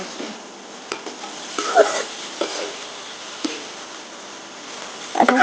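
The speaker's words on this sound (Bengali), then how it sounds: "সবগুলোকে আমি একসাথে একটু কষিয়ে নিচ্ছি" Chopped green chillies and other ingredients frying together in a pan, a low steady sizzle broken by scattered stirring scrapes and clinks of a utensil against the pan.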